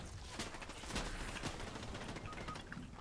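Faint, distant bursts of rapid gunfire crackle through a video game firefight, scattered volleys with no talk.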